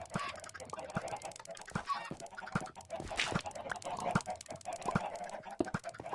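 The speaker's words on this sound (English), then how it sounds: "Because there's so many chickens" Minecraft chickens crowded together in a small hopper-fed farm, clucking over and over in a dense, busy cluster with sharp clicky pecks throughout, fairly close and steady with no talking.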